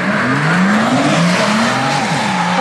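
A Renault Megane with a 75 hp engine accelerates hard. The engine note climbs steadily in pitch, loud and close from start to finish, with no talk over it.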